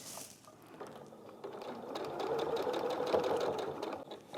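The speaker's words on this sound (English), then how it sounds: "Make sure to reverse stitch on this so to make it really strong." A sewing machine stitches a fabric pocket for a painting dust bag, running in a fast mechanical whir that starts softly and grows louder and steadier as it reverse-stitches, close and alone.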